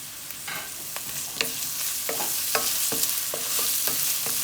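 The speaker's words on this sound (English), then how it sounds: "Then I'm going to fry a little bit till it's brown." Garlic, ginger and onion with a red chili frying in a pan, a steady sizzle under repeated sharp scrapes and taps of a stirring utensil, close and fairly loud, with no talking.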